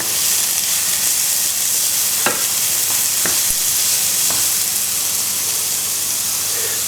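Red peppers and lamb mince sizzle steadily in a frying pan while being stirred, with a constant frying hiss and a few soft scraping clunks from the stirring, close up and without voices.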